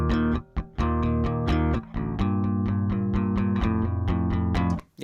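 Bass guitar run through chorus and distortion effects plays a thick, buzzing, rhythmic line of repeated notes with brief gaps, loud and up front without any voice.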